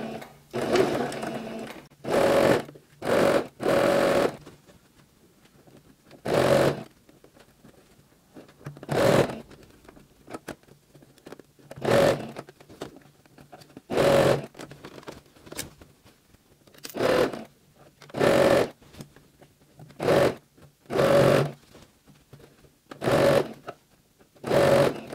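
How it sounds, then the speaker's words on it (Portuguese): A sewing machine runs in short bursts, stitching around the edge of a double-sided fabric bag, with about fifteen separate runs of whirring needle chatter broken by quiet pauses, close and clear with no talk. "vou passar uma costurinha rente em toda a volta"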